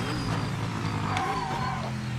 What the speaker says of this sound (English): This is a Lotus. Listen to it.